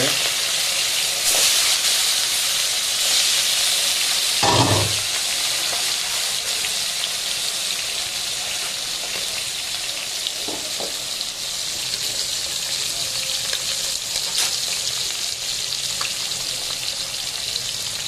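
Chopped onion frying in hot oil for a Bengali chorchori sizzles with a steady, loud hiss throughout, broken by an occasional clunk of a stirring utensil against the pan.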